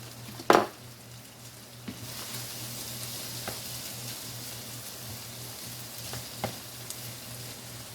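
Corn cooking in butter in a pan gives a low steady sizzle, with a sharp utensil clack near the start and a few faint taps of stirring, no one talking.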